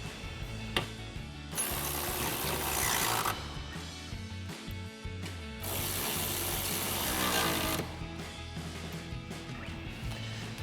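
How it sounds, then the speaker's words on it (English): A ratchet with a 19 mm socket tightens the front and rear mounting bolts of 3-inch side step bars on a 2015–2024 Ford F-150. Two long runs of rapid, close, loud clicking are separated by short knocks and pauses. "Now we can go ahead and tighten down our front and rear mounting bolts with our 19 mil socket on our ratchet."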